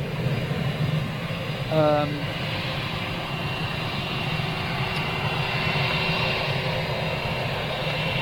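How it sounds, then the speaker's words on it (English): Lufthansa jet airliner at Manchester Airport producing a steady, distant engine roar that carries on throughout, with a brief clatter near the start. "Is that the Lufthansa? Has that gone out, that Lufthansa flight?"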